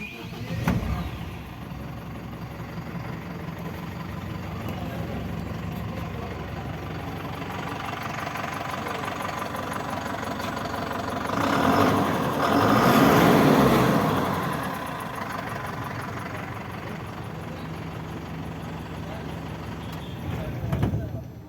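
A Tata 610 SFC six-wheeler BS6 diesel truck engine runs steadily at idle with a low, knocking rumble, swelling louder midway before settling again; a voice speaks briefly at times.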